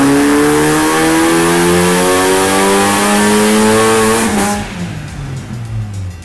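A supercharged MINI Cooper S R53 with a TVS900 supercharger kit revs hard, its engine pitch climbing steadily and loud up close before dropping off sharply as the throttle closes and the engine settles back.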